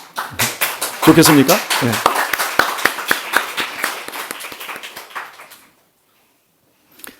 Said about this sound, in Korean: 이럴 때 박수를 칠까요?